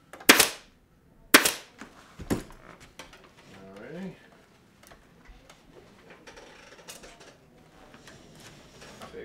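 A staple gun fires three sharp, loud snaps into fabric wrapped around a post, spaced about a second apart, followed by faint rustling of the fabric being handled.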